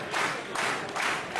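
A wrestling crowd applauds and cheers in a steady roar of clapping and voices that swells and dips in rough waves.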